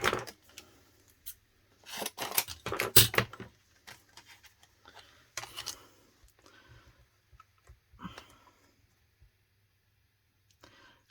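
Scissors trimming paper while making a card, a run of crisp snips and cuts in bursts, strongest early on, then sparser light clicks and rustles with quiet gaps.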